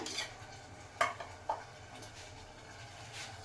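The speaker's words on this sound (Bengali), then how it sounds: "আর এই যে কুয়াশ তরকারি কষছে" Squash curry being sautéed in a pan, with a faint continuous sizzle under a few scattered clinks and scrapes of a utensil against the pot, quiet and close.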